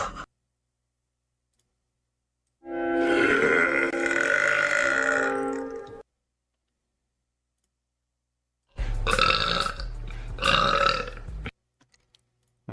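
A long, drawn-out belch is followed after a silent pause by two shorter, deep burps, all loud and close, with faint clicks near the end and no talking.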